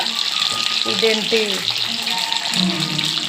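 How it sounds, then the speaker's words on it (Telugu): Food frying in oil gives a bright hiss close by, while a person talks over it throughout. "ఆయిల్లో బాగా వేయించుకొని తర్వాత ఇది మళ్ళీ ప్లేట్లోకే తీసుకోవాలండి."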